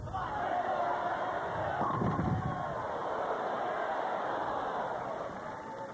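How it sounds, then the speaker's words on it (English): A bowling crowd applauds and cheers for a string of five strikes, a steady, dense wash of clapping and voices heard from a little distance with no talk over it. "a great round of applause for stringing 5 by this crowd"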